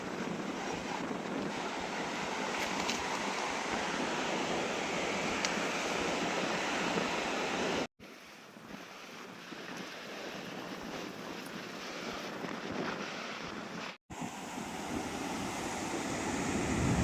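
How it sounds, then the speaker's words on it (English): Sea waves wash against rocks along a beach on the Atsumi Peninsula in Japan, a steady rushing surf mixed with heavy wind buffeting the microphone, broken by two brief dropouts. "watching the waves crash into the rocks"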